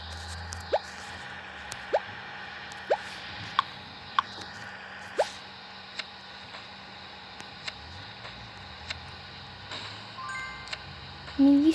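In a video game, a character washes with water: sparse, soft drips and small plops fall at irregular intervals over a faint steady background, ending with a brief louder splash.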